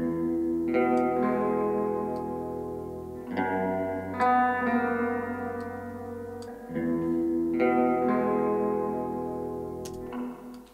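Sustained musical tones run through a convolution reverb with adjusted hold and release times, played in three repeating phrases, each leaving a shimmering decaying tail.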